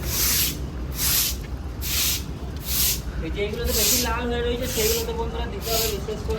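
Water sprays in repeated pulsing bursts onto a truck's cargo bed, which is being rinsed of brick dust, each burst a loud hiss with engine rumble underneath and voices talking throughout.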